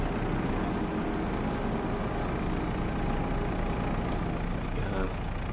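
A truck engine in the farming game Farming Simulator 22 idles with a steady low rumble that holds at an even, loud level, with a few brief higher clanks over it.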